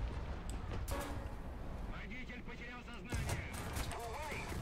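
Tank cannon fire from a 2S25 Sprut light tank in War Thunder, a sharp booming shot standing out amid loud, continuous engine rumble and battlefield clatter, with another heavy blast shortly after.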